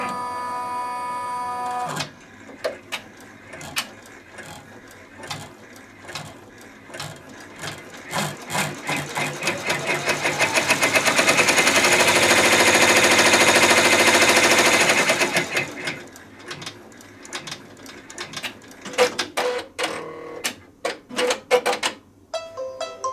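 An embroidery machine stitches an in-the-hoop pot holder, a rapid, loud mechanical chatter of needle strokes that speeds into a dense steady whir midway, then slows back to separate clacks and stops.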